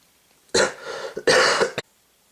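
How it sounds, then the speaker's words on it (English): A pair of loud, chesty coughs close to the listener, separated by a brief pause, ending with a short sharp catch; no speech. "oh, pardon me, I had a bit of a cough there."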